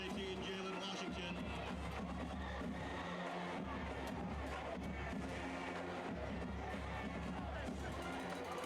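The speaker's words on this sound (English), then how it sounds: "Looks like this crowd's already making it difficult here for the Bulldogs offense" Spectators at a high school football game between Opelika and Auburn roar in a continuous, distant din, with voices talking over the crowd noise.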